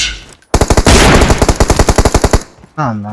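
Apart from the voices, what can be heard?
gunfire in PUBG Mobile video game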